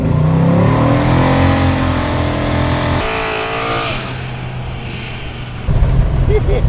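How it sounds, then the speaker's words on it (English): A car with a 727 cubic inch engine does a burnout on a paved road in the middle of nowhere, a loud roaring, revving engine that shifts pitch partway through, with people talking over it. "It does good burnouts."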